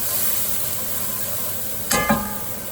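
Pilaf with curry powder is stirred around a hot frying pan over a steady close sizzle, with two quick scraping strokes of the utensil near the end.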